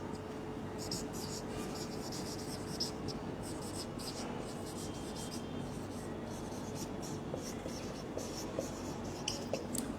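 Pen or pencil scratching steadily across paper while an answer is written by hand during a Bengali first-grade lesson, a continuous close, soft scraping with a faint hum beneath and no talking.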